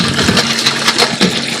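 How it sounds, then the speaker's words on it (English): Cold water gushes hard and steadily from a kitchen tap for a moment, loud and close with a busy splashing texture. "Open the water."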